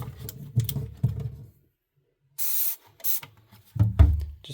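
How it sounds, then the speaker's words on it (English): A short burst of pressurized dish soap power-wash spray hisses twice between bouts of scrubbing with a stiff brass brush and clattering, close by, with no talking. "Just give it a nice spray of your power wash."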